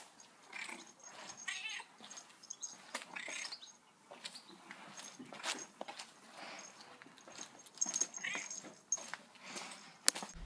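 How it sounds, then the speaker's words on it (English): A ginger cat darting about on a grimy, oil-covered floor, heard as faint, scattered scuffs and soft patters with an occasional small meow-like cry and a sharp knock near the end, no talk. "It's just the ginger cat, which tries to trip you up."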